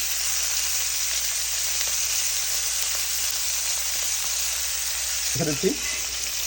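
Steak bites frying in a hot pan give off a steady, close sizzle across the whole stretch, with a brief clunk near the end as pieces are moved.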